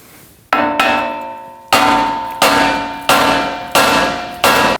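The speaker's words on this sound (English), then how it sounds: "Now we can strike the knuckle right here by the ball joint to release this." A hammer strikes the steering knuckle of a 2016-2022 Honda Pilot by the ball joint: six loud, ringing metallic clangs at irregular intervals, each decaying slowly with a bell-like tone, close and alone.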